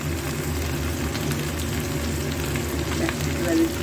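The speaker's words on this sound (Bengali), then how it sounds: "এবার একটু গ্যাসটা সিম করে দেবো, একটু মিডিয়াম টু লো ফ্লেমে রেখে পুরোটা ভাজবো, আর ঢাকবো না।" Egg curry fries steadily in a pan over a medium-to-low flame, giving a continuous, even sizzle that holds at one level throughout without talk.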